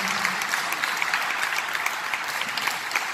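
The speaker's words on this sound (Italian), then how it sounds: "Luisa Pennelli, un applauso perché è meritatissimo" An audience applauds at a swing band concert with steady, dense, continuous clapping throughout, loud and close, and no talk over it.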